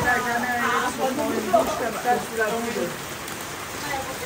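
Steady rain falls in lush Okinawa vegetation, a continuous soft hiss with scattered drops, while people talk nearby throughout.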